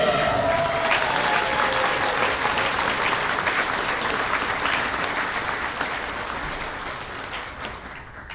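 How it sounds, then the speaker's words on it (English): Sustained audience applause at a Tribute to Champions 2024 awards event honoring a basketball official, dense steady clapping filling the room throughout, slowly tapering toward the end. "let's still give Sean a big round of applause"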